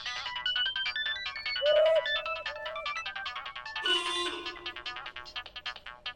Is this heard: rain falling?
no